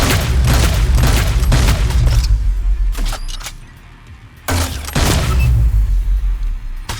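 The Salvo EPL weapon firing in the shooter game Hyperscape, loud bursts of rapid explosive shots in two volleys separated by a quieter pause.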